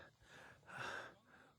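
Heavy, labored breathing from a person climbing the Velliangiri Hills on a mountain trek in the dark, several close gasping breaths in and out, loudest in the middle, with no talking.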